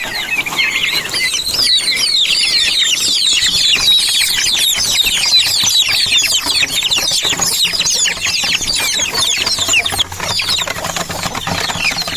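A flock of turkeys gobbling and chattering nonstop, many overlapping calls up close, forming a busy, noisy poultry chorus.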